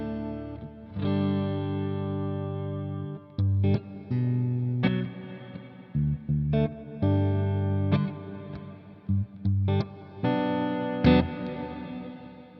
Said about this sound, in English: So here's just the straight reverb from it.